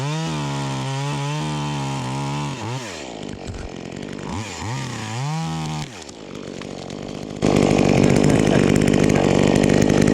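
A V-Modest 2511 top handle chainsaw, an Echo 2511 clone, cutting wood: the two-stroke engine revs and bogs as it bites, then drops to a lower pitch before surging into a loud, steady full-throttle cut, close up with no talking.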